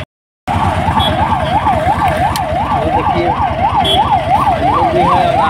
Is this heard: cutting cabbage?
no